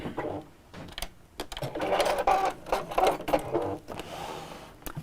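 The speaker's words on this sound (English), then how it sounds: "just sew up to the seam that I've just made. And just reverse back a bit." A sewing machine stitches a seam on a quilted pouch, running in close, loud bursts of rapid whirring with mechanical clatter, briefly reversing and then stopping and restarting, with some quiet talk mixed in.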